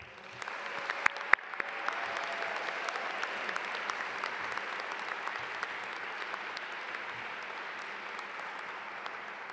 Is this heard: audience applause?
yes